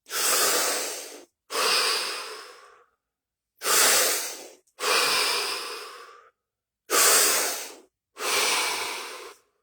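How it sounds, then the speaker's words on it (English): Three deep breaths during a meditation session, each a slow, close inhale followed by a long exhale, forming six loud airy breath sounds separated by silence. "3 deep breaths followed by absolute stillness and silence."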